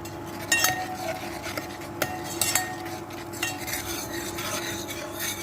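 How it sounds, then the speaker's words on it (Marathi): Ginger garlic paste with a pinch of asafoetida sautéed in ghee and butter for dal makhani, a soft constant sizzle under repeated metallic spoon scrapes and taps against the pan, close and moderately quiet, no talking. "आलं लसूण आपलं चांगलं परतून घ्यायचं तूप आणि बटरवरती"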